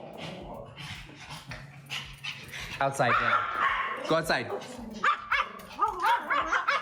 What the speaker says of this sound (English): Let me let out my dogs